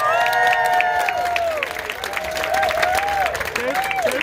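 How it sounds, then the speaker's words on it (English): An audience at a bookstore author event applauds and cheers, with rising whoops and voices riding over continuous clapping that swells again after a brief dip midway. "let's give her a big round of applause"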